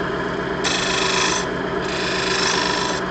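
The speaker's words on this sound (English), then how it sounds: "Let's see how this little spindle gouge cuts." Spindle gouge cutting a red oak firewood bowl with a live edge on a wood lathe, a close, continuous rasping hiss that swells and eases as the tool bites, alone without talk.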